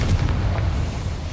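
A Confringo fire spell explodes in Hogwarts Legacy as a short, deep boom with a rumbling burst, loud and close, then fading into a low tail.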